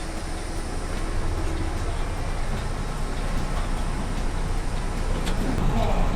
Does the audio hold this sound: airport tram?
yes